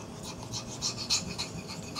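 A 3V steel Gunny knife edge is reprofiled on a sharpening stone. Soft, fairly quiet rasping strokes repeat steadily for about two seconds, with no voice over them.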